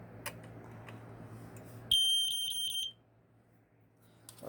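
A BRK 1200 smoke detector, cover removed, sounds its alarm as one loud, piercing, pulsing tone lasting about a second, close by. A steady low hum runs underneath and scattered clicks come before it.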